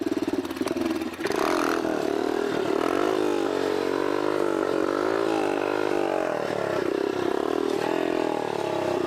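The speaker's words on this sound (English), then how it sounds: "This is gonna be a real wheelie. So nice and slow, in the low RPMs. Use that torque to lift it up." A motorcycle engine runs loud and close at low RPM, with a clattering start and then a sustained, slightly wavering throaty drone as the bike is eased up into a slow wheelie.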